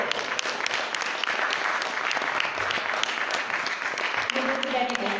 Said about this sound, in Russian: Мы благодарим вас за внимание, за теплые аплодисменты.